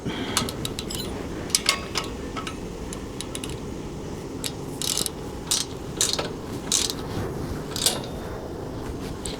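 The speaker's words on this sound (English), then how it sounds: "Just going to tighten that up." A bolt being tightened on a Strainrite Contractor Quad Jenny trailer during assembly, heard as rapid ratchet clicking in bursts with sharp metallic ticks over a steady background hum.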